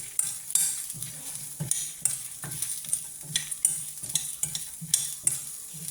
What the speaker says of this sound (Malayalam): 1/2 ടീസ്പൂൺ കുരുമുളക് കൂടെ നമുക്കിടണം. അതുകൂടെ ഒന്ന് മൂക്കണം.